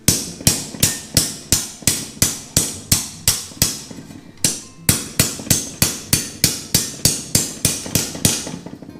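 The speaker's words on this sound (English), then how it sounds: "we're going to ball peen between these 2 marks over the gap" A ball peen hammer strikes steel flat bar in a steady run of about twenty sharp, ringing blows, close and loud, with one brief pause midway, while peening a radius into a bonnet panel.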